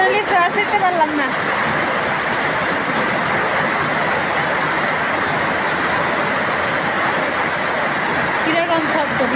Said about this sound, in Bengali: এই যে বৃষ্টি নেমে গেছে